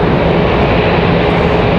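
A Boeing 777 departing Raleigh-Durham at night gives a loud, dense, unbroken jet roar filling the whole brief moment, close and powerful.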